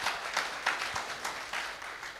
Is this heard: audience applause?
yes